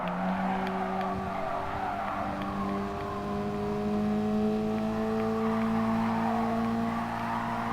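Race cars in Gran Turismo Sport during a Nations Cup exhibition race, engines droning with shifting pitch as several cars run together, accompanied by long sustained tire squeals and skids, loud and steady with no talk.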